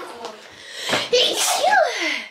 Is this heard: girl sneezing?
yes